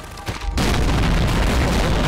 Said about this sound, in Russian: У нас без взрывов не бывает.